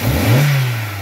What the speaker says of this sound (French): Mets un petit coup d'accélérateur.